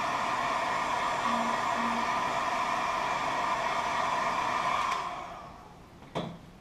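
Heat gun blowing hot air onto foam, a steady loud whoosh of airflow with a motor whine that winds down after about five seconds, followed by a brief clunk.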